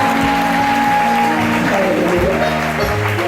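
A church congregation claps steadily and loudly, a thick unbroken roar of hands lasting the whole stretch, with a few voices mixed in.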